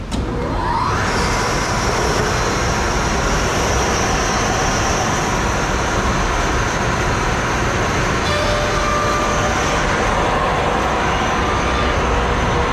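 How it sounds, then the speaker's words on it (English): A wood planer feeds a one-inch-thick cedar panel, rough side up, for a chest, making a loud, steady broadband roar that spins up at the start and holds continuously with no talking. "Gonna send it through our planer."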